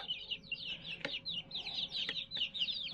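Chickens cluck continuously in quick, overlapping bursts while feeding from a bowl, with a few sharp taps and a faint steady hum in the background.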